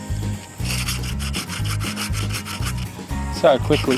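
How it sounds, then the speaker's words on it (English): Crumpled foil rubbed over a rusty cast iron camp oven lid, making rhythmic rasping strokes back and forth at close range, about a stroke every half second, with a brief spoken remark near the end. "any rust marks like this we've got on here, you'd be amazed just how well this actually comes off with the foil"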